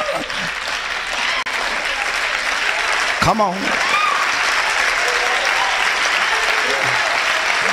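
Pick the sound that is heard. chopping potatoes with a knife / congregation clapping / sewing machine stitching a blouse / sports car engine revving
congregation clapping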